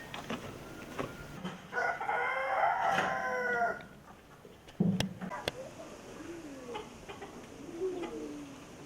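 A rooster crows loudly nearby, its long call rising and falling, followed by softer clucking and cooing of birds and a few knocks.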